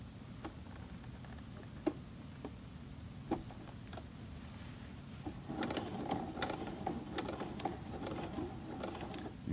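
A Juki G210 sewing machine stitches a denim jeans leg hem with faint mechanical ticking and a low hum, growing slightly busier partway through. The sound is quiet overall.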